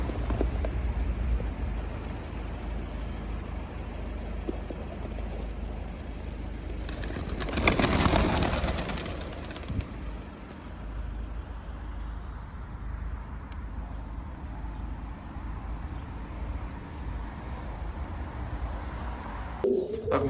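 Racing pigeons coo softly at a moderate distance, the soft calls mixed with steady road traffic, and a passing vehicle swells loudly midway before fading.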